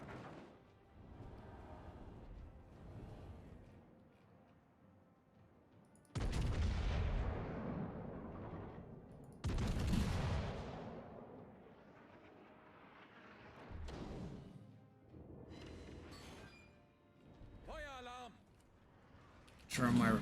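Heavy ship cannon fire in the naval game World of Warships, with the battleship HMS Hood under fire: several deep booming salvos with long rumbling tails, spaced seconds apart, while a player talks between them.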